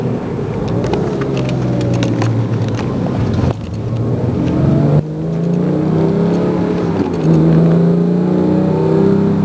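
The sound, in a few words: Porsche 911 GT3 engine revving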